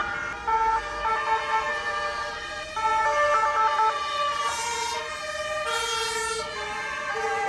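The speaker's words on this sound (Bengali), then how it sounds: "ও অ্যাম্বুলেন্স" An ambulance siren wails on a street in Innsbruck, Austria, loud and close with a repeating two-tone pattern over the rumble of passing traffic.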